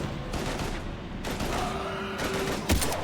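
Rapid bursts of automatic gunfire ring out in the video game Mass Effect 3, several short volleys with brief gaps between them, moderately loud amid game background noise.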